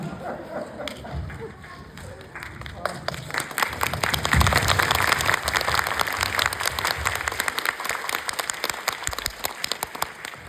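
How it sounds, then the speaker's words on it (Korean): Audience applause at a master class with director Johnnie To at the Bucheon International Fantastic Film Festival, swelling from scattered claps into sustained, dense clapping by a large indoor crowd, with talk at the start. "오늘 긴 시간 함께 해주신 두기봉 감독님을 큰 박수로 보내드리도록"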